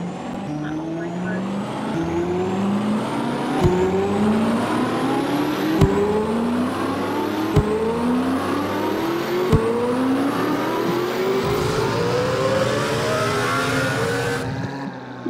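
A Corvette engine in a Roblox vehicle simulator game revs up through the gears repeatedly, each rising whine cut by a shift, loud and continuous.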